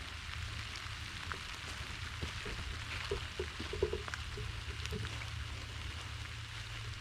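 Steady, soft patter of rain on surfaces, with a few scattered droplet taps and no voices.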